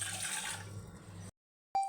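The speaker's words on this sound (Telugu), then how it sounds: "2 గ్లాసుల నీళ్లు పోసుకొని" Roughly two glasses of water poured from close by into a pot set on a gas stove for steaming ragi idli, a steady splashing gush lasting just over a second before cutting off, then a brief clink.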